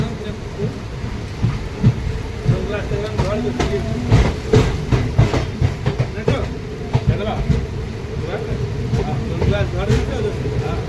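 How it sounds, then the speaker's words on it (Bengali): A passenger MEMU train rolls into Shikaripara station in Jharkhand during heavy monsoon rain, with rumbling wheels, scattered clacks and a constant wash of rain, fairly close and moderately loud. "প্রচণ্ড বৃষ্টির মাঝে ট্রেন ঝাড়খণ্ডের শিকারিপাড়া স্টেশন পৌঁছেছে"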